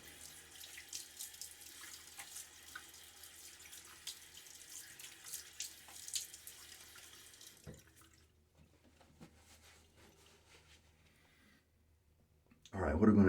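Water running from a bathroom tap into a sink to wet the face before shaving, a soft splashing stream that stops partway, followed by quiet handling sounds and a loud burst at the end.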